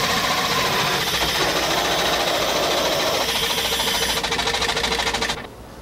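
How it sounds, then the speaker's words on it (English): A jewelry casting machine spins after release to cast a ring, giving a loud, steady mechanical whirring and rattling drone that holds for about five seconds, then cuts off abruptly near the end, leaving a quieter hum. "the machine is held in position and then carefully and gently released to make the casting"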